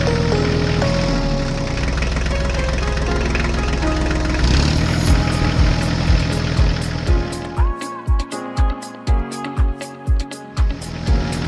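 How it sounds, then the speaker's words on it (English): Heavy tractor engines rumble and idle nearby, their drone layered and steady, later joined by a rhythmic series of regular thumping knocks. "the sound of engines fills the air as both machines slowly roll out of the big"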